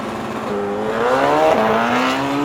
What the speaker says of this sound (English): the sharp revving of a motorcycle made her jump